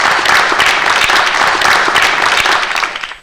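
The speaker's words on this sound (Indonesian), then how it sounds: "Tepuk tangan." A studio audience claps steadily and loudly during a television talk show, a dense patter of hands that tapers off near the end.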